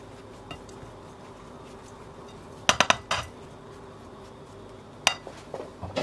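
A spoon stirs coarse brown bulgur with salt and hot water in a bowl. A quick run of crisp metallic clinks against the bowl is followed later by a few scattered taps over a quiet room.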